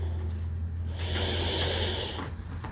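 Slow, deep breaths in and out during a held yoga pose in a home strength and mobility session. The breathing is close and audible, with one long airy exhale over a low steady background hum.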